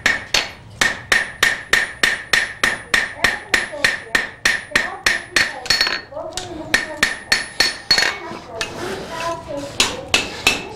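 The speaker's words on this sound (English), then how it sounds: "Again, I'm using the straight peen." A blacksmith's straight peen hammer strikes glowing hot steel bar stock while forging notches for a flower, ringing in a steady, rapid run of sharp metallic blows with a brief pause midway.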